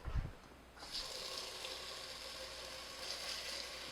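Water pours steadily into a rice cooker pot, a close, continuous splashing and rushing stream that begins after a brief thump.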